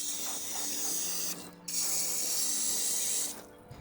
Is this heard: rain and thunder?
no